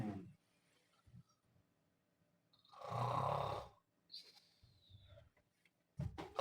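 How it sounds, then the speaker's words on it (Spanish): A person snores in a quiet room, one long rasping snore in the middle with softer breathy snorts before and after, close and isolated against near silence. "Si vas a dormir conmigo, deja de roncar."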